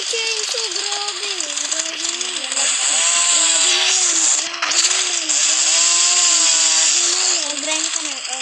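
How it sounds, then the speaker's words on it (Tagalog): A video game chainsaw whines steadily at high pitch throughout, revving up and down in wavering tones while people talk excitedly over it. "Doyo, may chainsaw."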